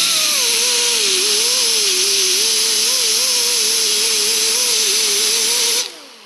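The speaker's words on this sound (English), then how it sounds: "we only want to grind until the weld is just barely gone and we get rid of that little line" A disc grinder grinds down a weld bead on steel plate, a loud, continuous high-pitched whine with a wavering motor tone that holds steady throughout and then drops away as the tool is lifted off at the end.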